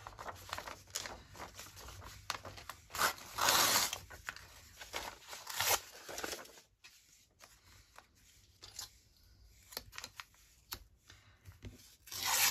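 Paper is handled for an envelope craft project, with rustling, rubbing and crinkling in irregular bursts, close by and fairly quiet, with no talking.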